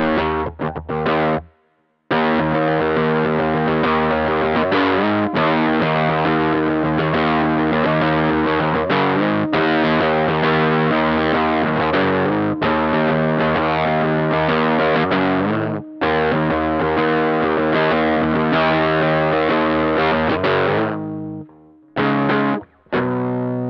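Heavily distorted electric guitar riffs played loud through an amp, chugging chords with brief gaps and a short pause near the end.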